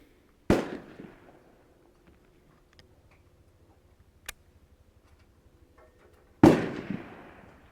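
Two sharp rifle shots while sighting in a scoped rifle, each a loud close crack with a short decaying echo, separated by about six seconds of near silence.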